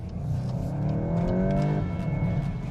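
Volkswagen Golf GTI engine accelerating hard, a loud, close, steady rising drone with climbing harmonics that holds throughout with no talk over it.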